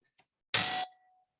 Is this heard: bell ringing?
yes